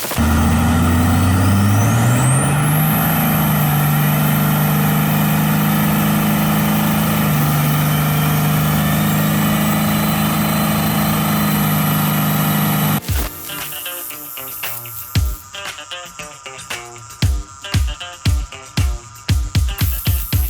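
Cummins compound turbo diesel engine in a Chevy squarebody ramp truck, a loud close rumbling idle with rising turbo whistle, then the engine cuts off and rhythmic clanking follows.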